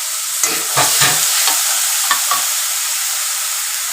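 Onion paste frying in oil in a pan, a steady close hiss of sizzling throughout, with a few soft scrapes of stirring near the start and no talking.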